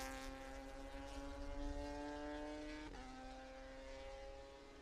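Prototype race cars at Road America running through the final corner, a sustained, fairly faint engine drone with strong tonal harmonics that dips in pitch near the midpoint as a car passes.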